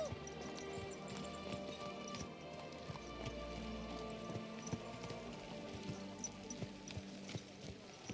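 Horse hooves clip-clop in the medieval video game Kingdom Come Deliverance 2, a steady, fairly quiet walking rhythm of hoofbeats that carries on throughout over a soft background bed.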